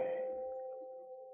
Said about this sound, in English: Ring that doorbell.